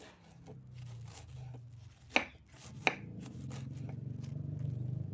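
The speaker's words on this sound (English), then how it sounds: "So here I am grating" Vegetables being grated for coleslaw, a soft steady rasping scrape at close range with two sharp clacks partway through, building slightly louder toward the end with no talking.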